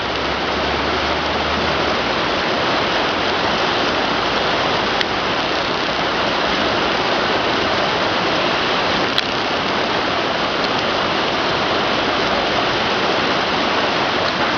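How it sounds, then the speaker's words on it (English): The Jordan River gushes after heavy rain, a loud, steady rushing roar of water that continues unbroken throughout. "you can see the water is gushing down from all that rain we had in January and February"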